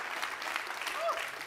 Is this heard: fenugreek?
no